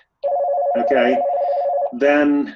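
A phone rings with a steady electronic tone that runs for over a second, and a voice talks over it during a community meeting.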